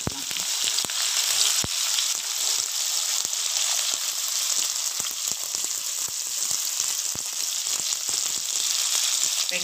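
Fennel seeds and a bay leaf fry in hot oil, a dense, bright crackling sizzle with frequent small pops, steady and close throughout.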